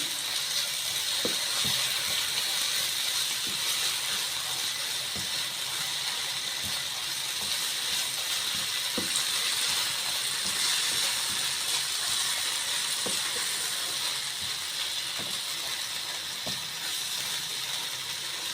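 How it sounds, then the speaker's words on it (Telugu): Ginger garlic paste frying in a pan for a Konaseema fish curry, a steady broadband sizzle and hiss running throughout with occasional faint clicks and taps, no talking. "తర్వాత అల్లం వెల్లుల్లి పేస్ట్ ఇది పచ్చివాసన పోయేదాకా వేయించుకుందాం"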